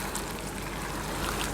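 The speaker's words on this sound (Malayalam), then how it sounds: "1 കപ്പ് തിളച്ചുകൊണ്ടിരുന്ന വെള്ളമാണ് ഞാനിപ്പോൾ ചേർത്തത്" Boiling water is poured into a chicken biryani masala in a pot, giving a brief, soft, steady rushing splash with no talking.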